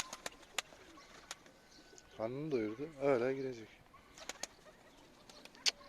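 Pigeons at a coop give a few soft coos and brief wing flaps, with someone talking nearby and scattered light knocks and rustles around them.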